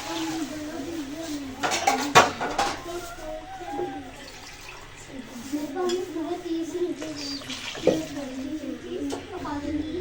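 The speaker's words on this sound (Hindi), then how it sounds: "आधा किलो पानी इसमें ऐड कर दूँगी।" Water poured into a cooking pot of matar pulao in a home kitchen, with clinks of metal pots and utensils and splashing and running-water sounds in uneven bursts, close and moderately loud, with someone speaking intermittently.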